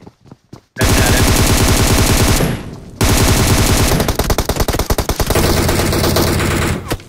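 Loud, sustained automatic gunfire from PUBG Mobile, dense rapid bursts filling most of the clip with one short pause near the middle, then firing resumes in choppier volleys.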